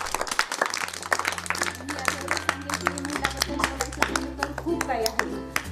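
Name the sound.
audience clapping at a children's birthday event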